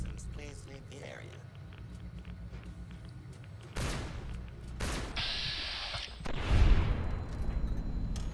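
Gunfire in Fallout: New Vegas: three sharp, loud shots land close together in the second half, following a quieter stretch of game ambience with faint voices in the background.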